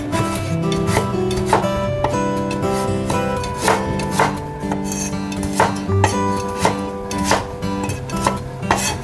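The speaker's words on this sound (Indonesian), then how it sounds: "ini sudah dikupas semua, kita potong-potong dulu kasar ya" Peeled ingredients for Banyuwangi-style chicken noodle sauce being roughly chopped with a knife on a board, a series of sharp uneven knocks over a bed of tonal background music, close and clear.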